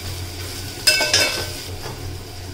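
Onion frying with cumin and asafoetida over low heat, a faint steady sizzle broken by two quick spoon scrapes against the pan close by, with no one speaking.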